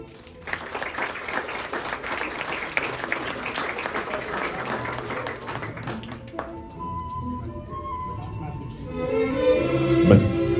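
Wedding guests break into dense, loud applause for about six seconds before it thins and fades, leaving quieter room sound and soft tonal music at the end.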